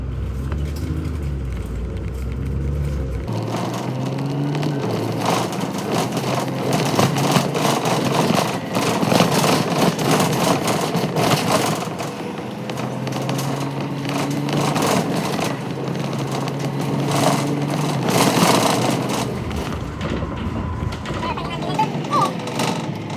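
A number 25 bus driving across Exmoor, its engine droning and rumbling steadily while the vehicle rattles along, passing another 25 bus; a voice talks over the engine noise in places.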